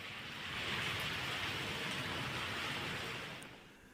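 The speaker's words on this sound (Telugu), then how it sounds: "అబిడ్స్, ఎంజే మార్కెట్, కోటి పరిసర ప్రాంతాల్లో కూడా భారీ వర్షం కురుస్తున్న దృశ్యాలు" Heavy rain pours down across Abids, MJ Market and Koti in Hyderabad, a dense, steady hiss of downpour that swells slightly and holds loud and continuous, with no voices.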